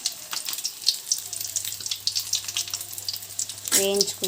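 Eggs frying with chili powder and salt for egg biryani, a steady bright sizzle with occasional spatula scrapes and a louder burst of crackling near the end, with no talking.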